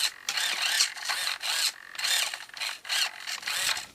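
A standard steering servo in a Traxxas Maxx RC car whirs back and forth in five or six short bursts with brief pauses between them, close and clear, with no voices.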